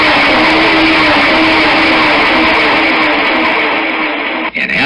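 A repaired engine runs smoothly, a loud, close, even roar that holds steady for several seconds, then briefly stutters near the end. No voices can be heard.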